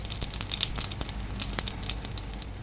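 Dried chilli, bay leaf and five-spice seeds hit hot oil in a wok, giving a close, quiet run of rapid crackles and sharp spitting pops over a soft sizzle.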